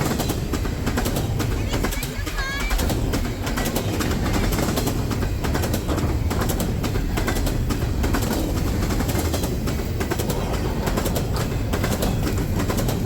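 A long freight train with a manifest block, trash containers and auto racks rolls past, producing a continuous dense clatter and rumble of wheels on rail, loud and close throughout.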